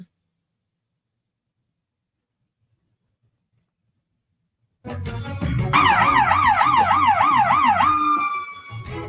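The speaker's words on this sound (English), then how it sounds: "I believe this is the one that has the really loud sirens in it." Near-silence, then a loud siren bursts in, cycling through a fast wailing yelp before settling into a steady tone, with rumbling traffic underneath.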